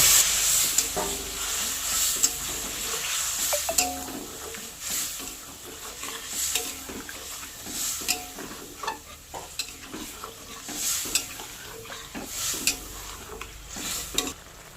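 Okra and potatoes cook in a pan on a dhaba-style stovetop, sizzling and hissing steadily with scattered stirring clinks and scrapes; no voices.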